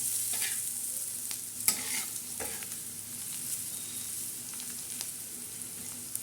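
Spices with turmeric and red chili powder are sautéed and stirred in a pan, a soft steady sizzle with occasional scraping taps of the spoon, quiet and close, with no talking.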